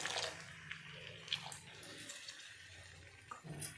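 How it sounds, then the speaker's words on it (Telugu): A small glass of water is poured into a cooking pot for Baroda curry, a faint, brief trickle and splash at the start, followed by quiet clinks and small watery sounds. "ఈ గ్లాస్ నీళ్ళు పోస్తున్నాను"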